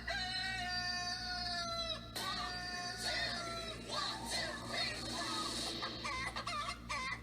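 Chickens cluck and squawk loudly and close by, starting with a drawn-out crow-like call and then breaking into agitated, overlapping clucks over a low background hum.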